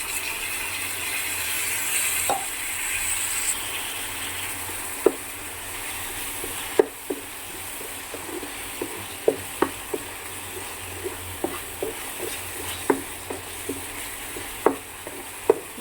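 Ginger paste sautés in a pan with a low continuous sizzle, punctuated by sharp, irregular clicks and scrapes of a spoon stirring against the metal, close and without speech.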